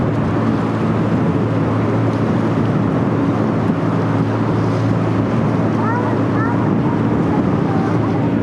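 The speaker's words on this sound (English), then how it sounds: "It's so windy." Strong wind buffets the microphone aboard a sightseeing boat on the Firth of Forth near the Forth bridges, a loud steady roar with engine hum and water wash underneath and brief faint bird calls late on.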